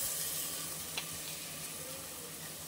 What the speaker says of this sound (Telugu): గ్రైండ్ చేసుకున్న అల్లం పేస్ట్ వేసేస్తున్నాను